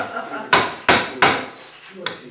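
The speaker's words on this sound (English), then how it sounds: "Get a real hammer in there." Hammer striking wood during dome construction, four sharp, close thwacks at uneven intervals over faint background talk.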